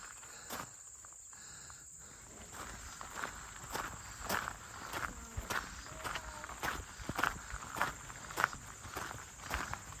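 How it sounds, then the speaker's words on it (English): Hikers' footsteps crunch steadily through a cow pasture on the Appalachian Trail, each step clear and close, with crickets and insects chirping continuously in the background. "So we're walking through the famous cow pasture on the AT."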